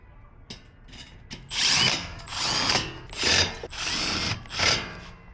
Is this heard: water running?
no